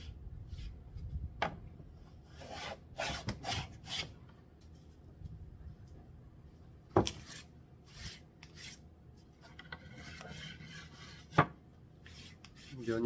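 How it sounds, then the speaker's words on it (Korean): A Western hand plane flattens one face of a wooden board, making intermittent rasping shaving strokes with sharp knocks between passes, close and fairly quiet, and no one speaking. "우선 한쪽 면을 평잡기를 해주겠습니다. 서양 대패를 이용해서."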